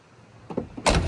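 The door of a 1981 Chevrolet K30 square body truck swings and slams shut, with a couple of light rattling clicks and then one loud, close thud.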